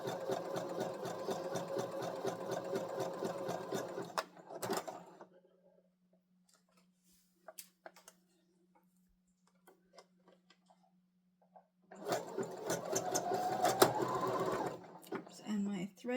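A sewing machine stitches fabric along a curve in two loud, close bursts of rapid whirring, separated by a long quiet stretch with only faint clicks, as after the thread snaps.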